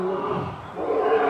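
A lion's deep roar swells loudly across the short span, rough and sustained, with a dense, growling low rumble throughout.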